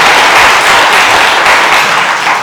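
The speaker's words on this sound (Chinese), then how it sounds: "好，请坐，再一次掌声欢迎他们。" A church congregation applauds to welcome guests, loud close clapping from many hands that stays steady and full throughout the short burst.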